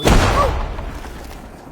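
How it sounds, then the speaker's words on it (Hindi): A single loud firecracker bang bursts right at the start, then a rumbling echo fades slowly over the next second and a half. "तुम पटाखे इस्तेमाल कर रहे हो?"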